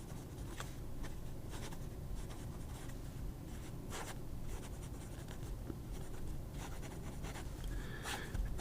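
A fountain pen with a wet medium nib, writing broad, scratches steadily across Crena paper with soft continuous strokes at close range, no voices.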